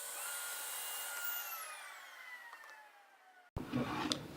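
A whining power tool shaves wood for fitting a Maloof-style rocking chair armrest, its pitch sliding steadily downward as the tool winds down, then a brief harsh bite of cutting with scraping noise at close range.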